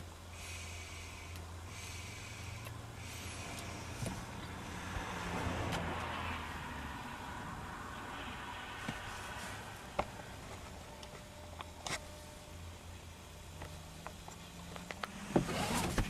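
A car ride through a neighborhood, heard from inside the vehicle: a steady low engine and road rumble, faint interior ticks and clicks, and a few brief knocks near the end, with no talk.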